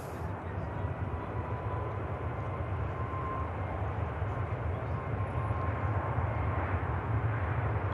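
A KLM airliner touches down on the runway at Manchester Airport, its steady broadband jet roar sitting at moderate distance, constant and unbroken throughout with a faint tonal whine above the rumble.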